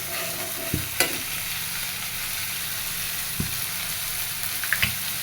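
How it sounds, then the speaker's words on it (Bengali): Spice paste for an egg curry fries in a pan with a steady low sizzle, broken by a few sharp spoon knocks and scrapes as it is stirred, quiet and without voices. "মশলাটা আগে একটু ভেজে নিব।"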